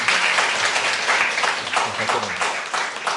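Dense applause from a seminar audience at Pai Chai University's Appenzeller Memorial Hall fills the clip, steady and continuous, with voices murmuring underneath.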